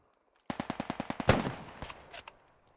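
Rapid gunfire in a WWII Operation Market Garden video game battle at Driel: a rhythmic burst of about eight evenly spaced shots, then a heavier blast with a trailing rumble and a few scattered shots, loud and without speech.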